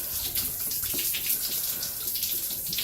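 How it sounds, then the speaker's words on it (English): Yellow liquid gushes from a burst container after its bottom is cut open, a steady close splashing pour that runs without a break and with no talking over it. "now there's water pouring over"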